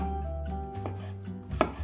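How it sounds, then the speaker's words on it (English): A sharp knife chops garlic on a board, giving a couple of close, crisp chops in a short burst with a low hum underneath and no voices. "use a sharp knife so garlic cuts evenly and quickly"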